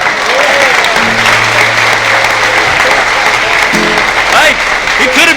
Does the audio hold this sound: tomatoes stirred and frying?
no